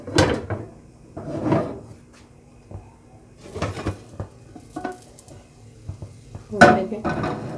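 Plate set down over a pan of Spanish potato omelette ready for flipping, with several clattering knocks of crockery against metal, moderately close, spaced across the moment amid quiet kitchen background.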